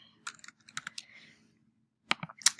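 Close computer keyboard typing in quick bursts, clustered key clicks and taps, a pause, then a few more sharp keystrokes.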